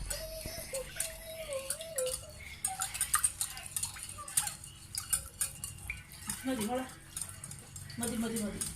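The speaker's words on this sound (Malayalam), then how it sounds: "ഇനി ഇതെല്ലാം കൂടിയിട്ട് നന്നായിട്ടൊന്ന് മിക്സ് ചെയ്യുക" Pancake batter of milk, egg and flour being stirred in a bowl, with clinking scrapes of a utensil against the bowl sides in an uneven rhythm while people talk nearby.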